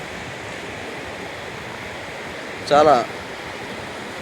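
Sea waves wash at Vadarevu beach near Bapatla in a soft, steady surf hiss, and someone briefly speaks over it partway through.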